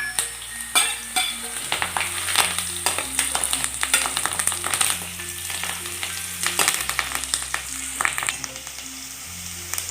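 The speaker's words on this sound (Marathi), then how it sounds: "आता मी हिरवी मिरची टाकते आणि कढीपत्ता" Green chillies and curry leaves sizzle in hot oil for a sago khichdi, crackling and spitting steadily with intermittent stirring scrapes, close and moderately loud, no talk.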